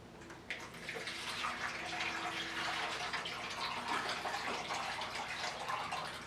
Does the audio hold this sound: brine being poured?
yes